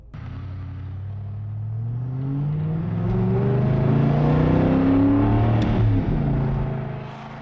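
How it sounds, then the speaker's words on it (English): Supercar engine fitted with a new exhaust, revved gently while warming up: a deep rumble swelling in pitch and loudness to a held peak, then easing back down, close by with no talking. "we can actually start to warm it up, give it a little bit of throttle,"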